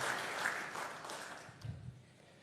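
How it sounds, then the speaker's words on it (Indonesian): Applause from an audience at a formal diplomatic speech honoring ambassadors and heads of missions, a fairly soft, steady clapping that fades over a couple of seconds. "Tepuk tangan sekali lagi untuk para ambassadors,"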